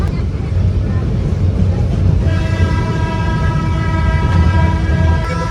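Darjeeling toy train running from NJP to Darjeeling, a loud continuous rumble of wheels and carriages up close, with a sustained tonal whine or horn-like drone joining partway through.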